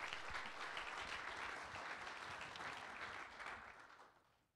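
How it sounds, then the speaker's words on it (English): An audience at a safety kickoff meeting in Arizona gives a speaker a round of applause, a dense burst of many hands clapping that holds steady and then tapers off toward the end. "let's give a round of applause to Rod."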